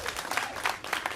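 Comedy club audience applause, a dense patter of many hands clapping at moderate loudness, steady throughout with no voices on top.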